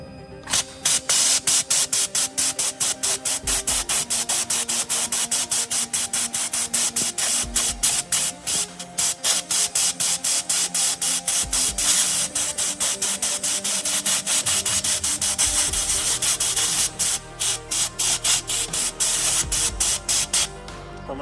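A handheld sandblaster sprays a flat top bar, firing in rapid on-off bursts of loud hissing blast as the trigger is pulsed, with brief gaps and rattling between the spurts.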